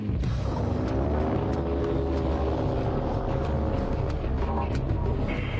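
A Predator drone climbs after takeoff, its engine giving a steady, loud droning hum with a rising harmonic whine that holds evenly throughout, no voices present.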